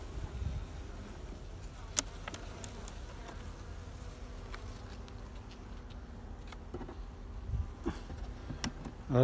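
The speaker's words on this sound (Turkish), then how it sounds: "arıları rüşeyte aktarıyorum ama tek ellen" Honeybees buzzing in a steady, dense drone while being moved from a hive into a nucleus box, close and continuous, with a few faint knocks and clicks.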